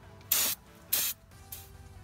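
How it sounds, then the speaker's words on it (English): Three short bursts of brake parts cleaner hiss from a spray can onto brake calipers, each burst about a quarter second with brief pauses between. "I'm going to use some brake parts cleaner."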